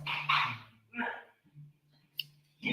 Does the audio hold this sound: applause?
no